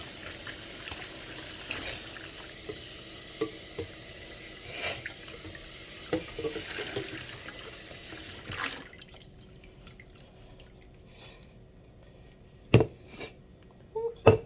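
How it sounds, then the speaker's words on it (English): Tap water runs into a NutriBullet cup for a rinse, a steady splashing stream that cuts off partway, followed by a few sharp drips and knocks of the cup in a quiet sink. "I'm going to rinse it out"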